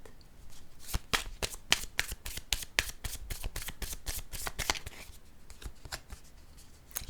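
Tarot cards being shuffled, a rapid run of crisp riffling slaps and flutters close by, pausing briefly before a few more quieter shuffles, with no talking.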